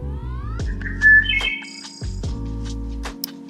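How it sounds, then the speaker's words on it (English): A wood thrush sings close and clear: a few low, flute-like introductory notes followed by a rich, layered trill, with two tones sounding at once and a brief pause between phrases. "it allows them to make sounds with each membrane at the same time, but different sounds, like this wood thrush here."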